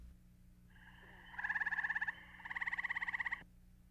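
A gray tree frog calls in two loud, fast trilling bursts, each a rapid pulsed rattle lasting about a second, close and clear over a faint background hum.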